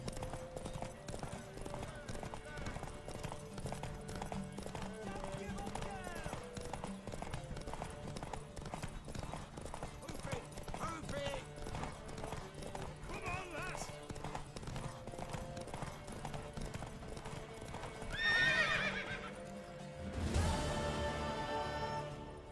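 Steady clip-clop of hooves runs throughout at a brisk gallop, with a shrill horse whinny near the end and muffled voices in the background, in the video game The Witcher 3: Wild Hunt.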